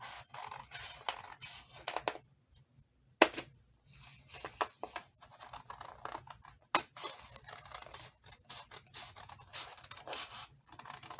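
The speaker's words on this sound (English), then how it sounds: "I'm just going to just barely cut that off because it's the size I want" Scissors trim a strip of paper for a handmade fall journal, giving a run of close, quiet snips and scratchy paper scrapes in an irregular rhythm.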